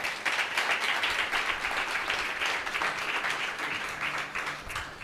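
Congregation applause during a Portuguese-language Sunday morning sermon, steady dense clapping from many hands sustained for about five seconds at moderate loudness, with no speech over it.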